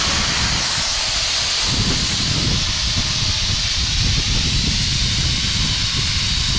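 A Wagner fence and decking sprayer blasts suds onto a car, producing a loud, continuous hissing spray with a rushing, slightly fluctuating texture and no pauses.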